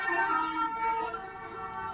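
A loud, blaring bus horn honks in sustained blasts close by, its tone wavering slightly before easing off.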